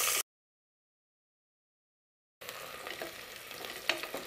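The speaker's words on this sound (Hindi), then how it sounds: "अब मैं इसमें डाल रही हूँ प्याज। प्याज डालने के बाद 2 मिनट सौते करूंगी।" Onion sautéing in a pan for khichdi, with a short burst of sizzle, a gap of silence, then close stirring and frying crackle with scraping taps.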